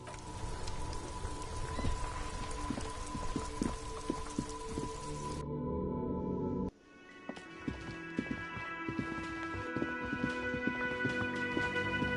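Steady rain falls throughout, a dense hiss with scattered drips and patters on surfaces, shifting once midway to a calmer, more even wash with faint tonal hum beneath.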